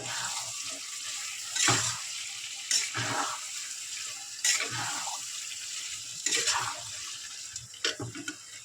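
Fried pointed gourd pieces go into an oil-separated gravy in a pan, giving a steady soft sizzle with several short scraping, stirring bursts spaced through the clip.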